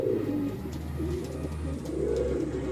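Racing pigeons just back from a race coo in low, steady, overlapping calls throughout, close by, with no talking.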